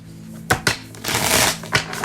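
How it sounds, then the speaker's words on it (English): Cards are riffled and flicked, a few sharp snaps followed by a quick papery shuffle, close and alone. "the deck really doesn't want to shuffle"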